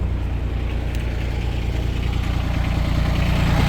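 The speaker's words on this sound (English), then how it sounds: "So these are a Kohler diesel." A Kohler diesel engine on a utility work machine runs steadily at idle, a loud, close, low rumbling drone with no talk over it.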